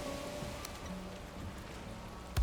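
Steady rain hissing down across the open landscape of the game Valheim, a dense, even wash with a sharp louder burst near the end.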